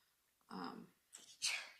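A single person sneezing during a meeting, a breathy intake followed by a short, sharp burst, close but faint overall.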